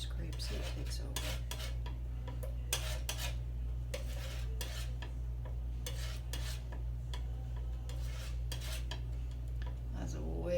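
A palette knife scrapes and taps against a paint palette in short, irregular strokes over a low steady hum, close and fairly quiet.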